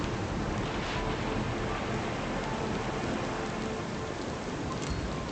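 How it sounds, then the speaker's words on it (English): Rain pours across a ship's deck in the Pillars of Eternity Deadfire video game, a dense, steady hiss of downpour with splashing, loud and unbroken throughout. "Rain sloshes across the deck and under the rails."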